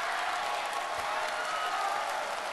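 Audience applause at a TV singing show, a dense steady wash of clapping from a large crowd, moderately loud and continuous throughout.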